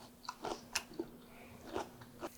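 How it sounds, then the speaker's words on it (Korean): Year-old garlic pickled in doenjang crunches with several crisp, close bites and chews over a quiet background, with no talk. "아직도 아삭아삭하니 아주 맛있어요"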